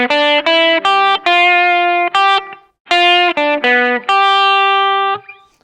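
An electric guitar plays a blues lick of sustained single notes, several bent or shaken with vibrato, loud and close with a gritty edge and a short gap midway.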